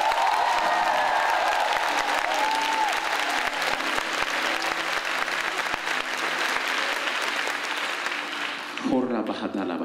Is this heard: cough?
no